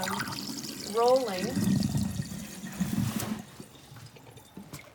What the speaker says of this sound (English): I'm draining the water out of the sink, and I'm going to fill it back up with water, fresh water